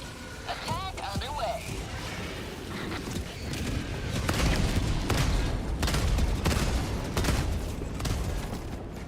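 Eagle airstrike explosions and gunfire in Helldivers 2 on a high-difficulty mission: rapid crackling bursts of shots and heavy booming blasts pile into a loud, chaotic barrage, with a voice speaking early on.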